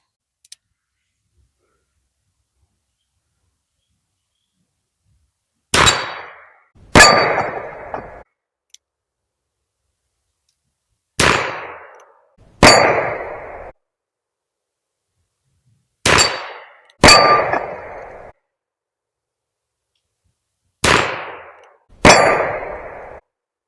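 .44 Russian cartridges fired from a handgun, heard as four pairs of sharp, loud shots with short ringing decays, each pair spaced several seconds apart against silence.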